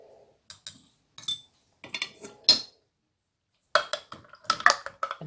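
Spoon clinking against a glass while stirring cucumber lemon juice with salt and pepper, a series of sharp, close metallic taps in irregular bursts separated by short silences.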